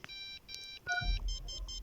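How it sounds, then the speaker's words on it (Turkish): Electronic alarm clock in a Toca Boca video game beeps in short repeated bursts, a chirpy stepped melody of tones with low rumbling noise rising underneath partway through. "Alarmı kapatayım da bari."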